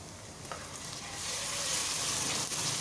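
Loud, close sizzling as ginger garlic paste hits hot oil with onions, the frying hiss swelling and staying strong throughout.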